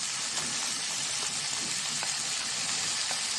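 Shrimp hit a hot casserole mixture for a shrimp tagine, giving a steady, close sizzle of frying with soft stirring clicks and no talk.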